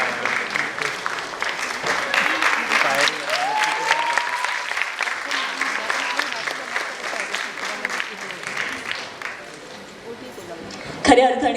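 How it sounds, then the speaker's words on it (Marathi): An audience at a fashion show claps and cheers in a dense round of applause that swells and tapers off, with voices audible over and around it. "जोरदार टाळ्या पुनश्च एकदा नीलम ताईसाठी झाल्या पाहिजेत."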